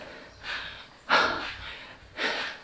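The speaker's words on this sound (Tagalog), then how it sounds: "Hingal-hingal ako." Heavy, close breathing after a run: three loud, breathy pants spaced about a second apart, each a harsh rush of air in and out, with no talking in between.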